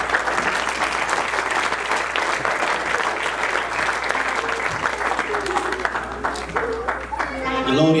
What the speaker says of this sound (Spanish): Dale las palmas al rey.